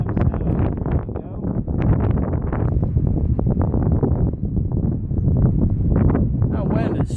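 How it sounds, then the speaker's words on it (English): Strong gusty wind buffets an outdoor Weber grill being set up with heat probes for smoking chicken breasts, a loud continuous broadband roar with wind noise on the microphone, and a person talking throughout. "That wind is strong."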